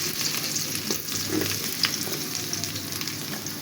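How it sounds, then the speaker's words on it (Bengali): Chopped onions frying in oil in a frying pan make a steady, close sizzle with faint stirring scrapes and no voices. "পেঁয়াজটা আমি আধা ভাজা করে নিব, বেশি কিন্তু ভাজা যাবে না"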